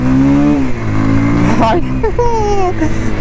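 Bajaj Pulsar 220F motorcycle accelerating hard in first gear, its engine note rising steadily close up and loud, with someone talking over the revving.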